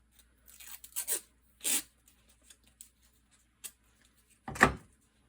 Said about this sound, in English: So if you just put a little bit of tape on it.